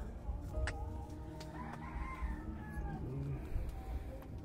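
Chickens cluck and a rooster calls faintly amid a busy outdoor background hum, with no talking.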